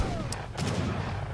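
Cannons firing in the real-time strategy game Age of Empires III: a few sharp booming shots in quick succession over a steady battle din, with no voices.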